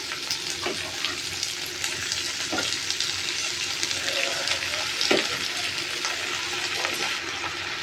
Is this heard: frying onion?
yes